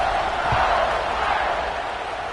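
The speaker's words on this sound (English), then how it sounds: "this crowd is buzzing after that last score" Stadium crowd at an Alabama versus Notre Dame college football game, buzzing after a touchdown as the kickoff nears: a steady, dense roar of many voices, loud and continuous throughout.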